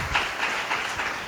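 A church congregation clapping together in a brief, even burst of rhythmic hand claps, moderately loud and close.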